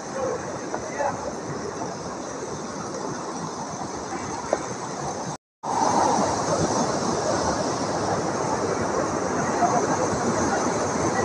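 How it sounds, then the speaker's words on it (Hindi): Hot spring water flowing in a river at Manikaran, a steady broadband rushing wash that continues throughout with one brief dropout midway, with no speech. "वहाँ पर आप देख सकते हैं गर्म पानी किस तरह से जो है नदी में बह रहा है"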